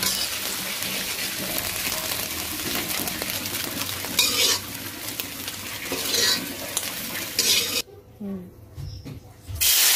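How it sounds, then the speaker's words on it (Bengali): An egg frying in a pan for fried rice: steady close sizzling with repeated stirring scrapes and clinks of a utensil against the pan, then a sudden drop to quieter crackling near the end. "ডিমটা ভালো করে ভেজে নিব।"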